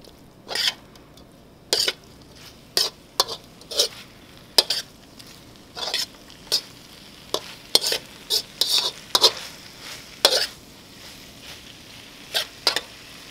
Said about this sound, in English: This is why they call it a stir fry.